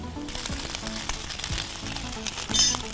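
Cooked basmati rice tipped into a hot pan for a Thai sizzler sets off a loud, steady sizzle with crackling spatters and a few light clinks, swelling briefly near the end.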